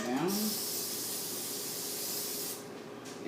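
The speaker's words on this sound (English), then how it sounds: "I'm going to use vegetable oil cooking spray." A continuous, loud aerosol hiss of vegetable oil cooking spray coating a cake pan, lasting about three seconds, with a brief voice at the start.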